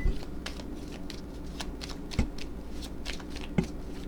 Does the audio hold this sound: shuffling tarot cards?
yes